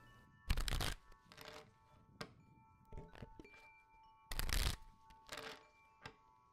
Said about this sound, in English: shuffle the deck and focus your energy on the answers you wish to be revealed this evening